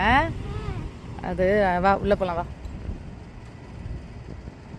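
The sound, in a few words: strong wind blowing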